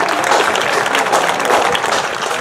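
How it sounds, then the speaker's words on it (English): Crowd at a high school football game, WHS vs Clay Center, applauding cross-country athletes and their seniors, dense continuous clapping from the stands, loud and unbroken throughout. "Let's give a round of applause for our cross-country representatives and their seniors."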